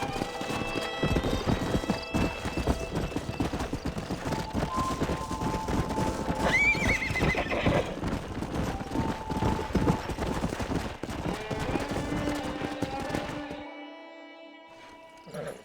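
In the game Red Dead Redemption, a steady clip-clop of a stallion's hooves runs throughout with a whinny partway through, set against a busy game soundscape that drops away near the end.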